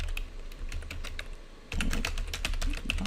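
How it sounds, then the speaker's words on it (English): Typing on a computer keyboard, close and fairly quiet: scattered key taps at first, then after a short pause a denser run of clicks with a few louder strikes, no talking. "So I'm going to type that in."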